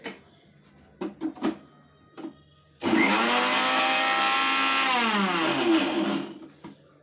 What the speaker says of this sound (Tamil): ஏலக்காய் அரைச்சி போடுறோம்